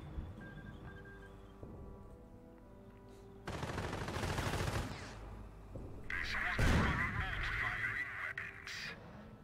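Company of Heroes World War II battle near Montebourg in Normandy: sustained bursts of rifle and machine-gun fire with sharp blasts, loud and close, mixed with game voices and ambient battlefield noise.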